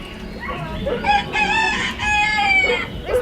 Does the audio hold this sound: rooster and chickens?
yes